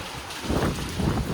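Strong wind at a lake during a mild thunderstorm buffets the microphone in a low roaring rush, swelling louder halfway through.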